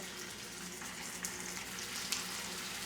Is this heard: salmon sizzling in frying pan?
yes